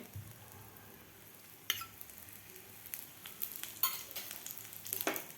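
Oil sizzling around an aloo paratha cooking in a pan: a faint, soft crackle with a few sharper spatters and clicks toward the end.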